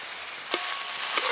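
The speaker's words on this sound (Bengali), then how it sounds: "এদিকে আদা রসুন পেঁয়াজ কাঁচা লঙ্কা কুচি ভালো করে ভাজা ভাজা হয়ে গেছে" Chopped onion, ginger, garlic and green chili fry in hot oil with a steady, close sizzle and crackle. Two brief stirring clatters break through, and no one speaks.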